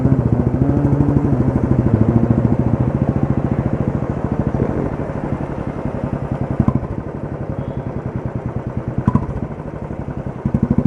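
Royal Enfield Bullet 500 motorcycle riding through Jaipur, its engine thumping in a steady, loud rapid beat the whole way, with a couple of brief clanks over the running engine and no talking.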